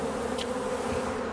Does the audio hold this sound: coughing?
no